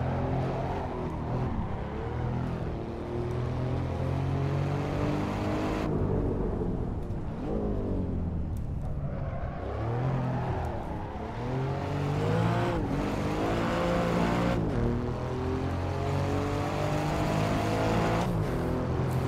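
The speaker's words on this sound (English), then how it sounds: "It's a turbocharged V6 that's not revving particularly high, so it is what it is, take it or leave it." Engine of an Alfa Romeo Quadrifoglio with a turbocharged V6 in the racing game Assetto Corsa, revving up and down continuously through repeated gear changes, close and loud, with no speech.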